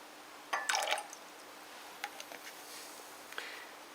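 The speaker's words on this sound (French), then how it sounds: "On va rajouter quelques gouttes d'eau oxygénée dans le bécher." Several drops of hydrogen peroxide fall into a tartrate solution in a laboratory beaker, giving a few soft, close drips and splashes spaced out over a quiet background.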